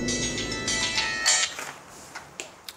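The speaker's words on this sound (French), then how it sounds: "Un coup de téléphone aussi expéditif que le message précédent." A telephone rings with a bright electronic ringtone for about a second, then fades out, leaving a few faint clicks.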